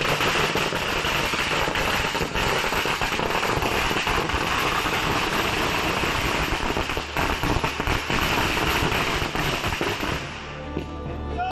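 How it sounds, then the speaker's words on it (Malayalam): A long string of firecrackers set off by about fifteen protesters in front of a house crackles and pops continuously for around ten seconds, loud and dense, then stops abruptly. "വീടിന് മുന്നിൽ പടക്കം പൊട്ടിച്ച 15ഓളം പേരാണ് പ്രതിഷേധിച്ചത്."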